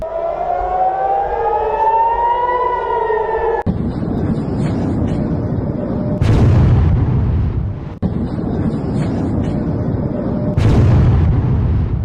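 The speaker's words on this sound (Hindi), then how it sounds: "आवाज आप सुनिए, धमाके की आवाज।" A wailing air-raid siren rises and falls, then gives way to loud, deep booming ballistic missile explosions and rumbling in Tehran, with two heavy impacts standing out.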